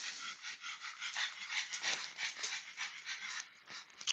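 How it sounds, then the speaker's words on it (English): Dogs whimpering, yipping and panting in bursts, heard at a moderate distance in a rhythmic series of high, thin cries with no talking. "Oh, dogs, listen to them."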